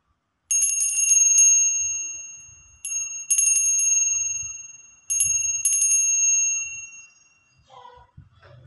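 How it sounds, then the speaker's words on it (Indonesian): A bright metallic bell rings alone in three bursts of rapid strikes, each ringing out and fading before the next. The last burst trails away into faint background noise. "kita akan melanjutkan dengan tanda lonceng berbunyi."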